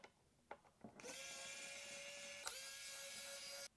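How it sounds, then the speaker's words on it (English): Small electric screwdriver backing out T5 screws from the heatsink of a 2024 M4 Mac Mini during a teardown, a steady close whir running for about three seconds after a few light clicks, with a brief hitch midway. "removing two more T5 screws here"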